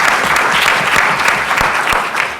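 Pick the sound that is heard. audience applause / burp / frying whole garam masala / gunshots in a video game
audience applause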